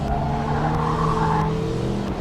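A 2019 Mazda MX-5 Miata GT on a race track, engine held at a loud steady drone with layered harmonics close by, a slight rise and fall in pitch as it revs out on a straightaway.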